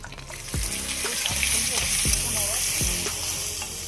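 Bay leaf, green chili, cumin and chopped onion frying in hot oil in a village kitchen, a steady loud sizzle with repeated stirring clatters and scrapes over it.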